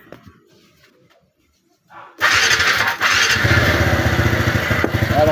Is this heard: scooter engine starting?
yes